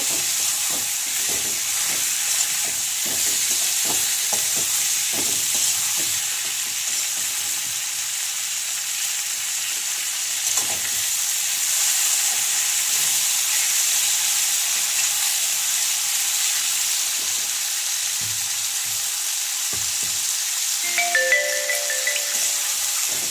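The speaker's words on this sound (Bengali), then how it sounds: "আর সাথে কেটে রাখা সজনের ডাটাগুলো দিয়ে দেব ভালো করে মিশিয়ে নেব" Drumstick stems sizzling in a hot pan, a loud steady frying hiss broken by repeated scraping strokes of a stirring spoon, with a brief clink near the end; no talking.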